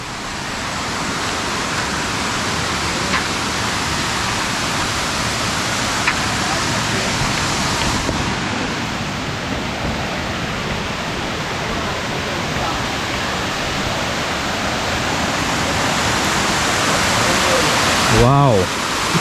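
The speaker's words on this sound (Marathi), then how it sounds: "बघा काय भारी वॉटरफॉल आहे तो." A waterfall in the forested Sahyadri hills at Gaymukh near Poladpur roars as a steady, loud, continuous wash of falling water that fills the whole stretch without a break.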